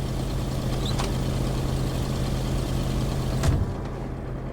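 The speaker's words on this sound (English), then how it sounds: "Sorry, the truck is loud." A truck engine drones loudly and steadily up close with a heavy low rumble, swells slightly near the end, then drops away sharply.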